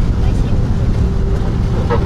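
An excursion motorboat pulls away from the Sevastopol embankment, its engine a steady low rumble blended with wind buffeting the microphone, continuous and close for the whole stretch.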